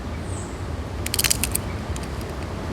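A few crisp crunching bites of fried green breadfruit in quick succession, close and fairly quiet, against a low background hum.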